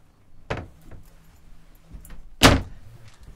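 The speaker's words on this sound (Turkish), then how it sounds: "Buradan kapıyı kapatabiliyorsunuz ve kapıyı kapattıktan sonra burada harici bir dolap var" A door on a 2024 Lagoon 46 catamaran shuts with a soft thud, followed a couple of seconds later by a louder, sharper slam, with faint clicks and rattles in between.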